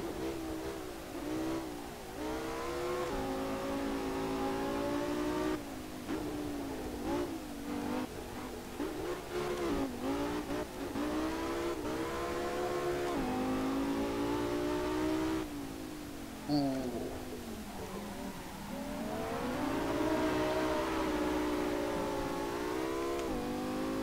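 A V10 car engine in the racing game Assetto Corsa, driven on a mountain touge road, revs up and down through the gears with rising and falling whines, loud and continuous, with no talking.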